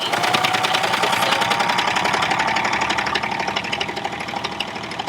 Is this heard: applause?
no